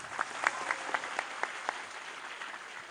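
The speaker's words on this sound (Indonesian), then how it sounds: "Tepuk tangan buat Desa Silotumpeng." A large outdoor crowd at a religious gathering with a Javanese preacher in Selotumpeng village applauds, sounding faint and distant, with a soft wash of clapping and a few sharper individual claps.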